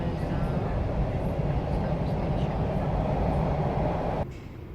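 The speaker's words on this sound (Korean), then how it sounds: "저희는 지금 전철역에 있고요." A subway train rumbles loudly and steadily at a station near Niagara Falls, a low continuous roar that cuts off abruptly near the end, leaving quieter background.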